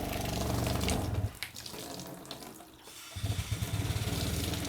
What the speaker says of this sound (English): turn it on, and you can see it's drawn out of that pump down there, out of that bucket.